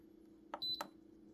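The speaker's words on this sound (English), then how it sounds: "It's gonna beep at me and say that I'm off." An electric pressure cooker gives a short faint electronic beep, a couple of quick chirps over a low hum in a quiet kitchen.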